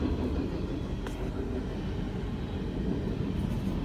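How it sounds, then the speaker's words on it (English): A long train rolls past close by, heard from inside a car near the beach as a steady, dense low rumble with no break across the whole stretch. "Bro, I could feel the train moving in my car."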